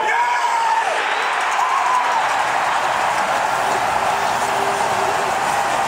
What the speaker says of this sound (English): the crowd is seriously into it